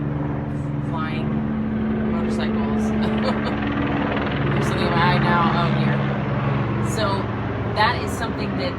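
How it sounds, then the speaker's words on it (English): A droning aircraft passes overhead, a steady engine hum behind ongoing conversation that nearly covers it. "there's planes and flying motorcycles"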